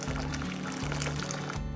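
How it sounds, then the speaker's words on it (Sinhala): Hot water is poured into a cooking vessel on a lit stove while making vegetable chopsuey, a faint, steady splashing pour over a low, humming background. "ඉස්සෙල්ලා මම ලිප ඔන් කරලා ඒකට උණු වතුර ටිකක් මේ භාජනයට එකතු කරගන්නවා."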